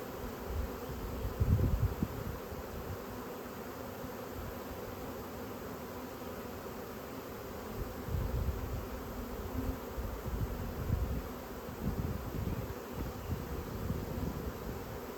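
Honey bees swarm around wooden hive frames of drawn comb during a swarm, a steady close insect buzz with a few louder surges.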